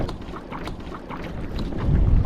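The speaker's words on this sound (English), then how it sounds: "A little bit of wind getting around." Wind rushes across open water around a kayak, buffeting the microphone in a steady, close roar that swells louder toward the end, with no talking.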